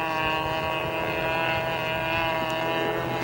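Radio-controlled model airplane from a 1983 model aviation outing, its small engine giving a steady, sustained buzzing drone as it rolls over overhead, continuous and fairly loud with no talking.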